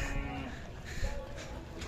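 Young bulls at a Khillar cattle market in Sangola, with low mooing and general livestock noise close by over a busy background.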